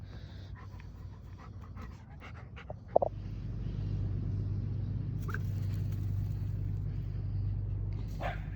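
A golden retriever pants in quick, rhythmic breaths close by, first with a few scattered clicks and scuffs, then over a steady low engine-like rumble, with no speech.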